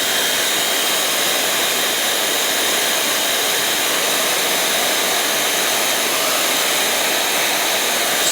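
A hair dryer blows steadily and loudly throughout, warming a disc cover for a bike's disc wheel as it is fitted, with a constant broadband whoosh and no talk.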